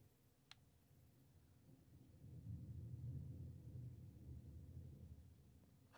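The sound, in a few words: thunder in the video game Detroit: Become Human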